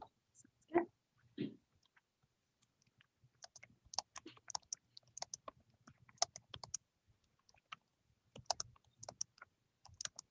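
Computer keyboard typing during a library board of trustees budget subcommittee meeting: scattered bursts of quick, light key clicks, fairly close and soft, with a couple of louder thumps early on and no talking.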